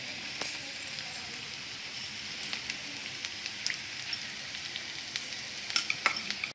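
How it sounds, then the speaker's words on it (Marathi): Rice-grit upje tipped onto cooked onions in a pan, sizzling steadily while being stirred, with scattered scraping taps over a continuous close frying hiss. "आता आपला कांदा शिजून झालेला आहे त्याच्यामध्ये मी आता घालतीये आपले उपजे"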